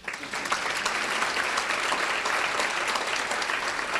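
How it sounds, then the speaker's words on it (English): An audience claps steadily for a high school auto mechanics student at a Tri-Cities education event, a dense, even wash of many hands that carries on throughout without letting up. "Clap for her."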